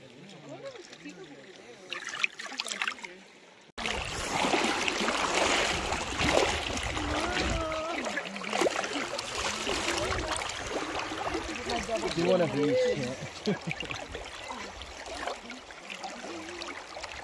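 Flowing water at natural hot springs in Big Bend National Park, a steady broad wash with trickling and gurgling close by after a short quiet opening, with people talking over it throughout.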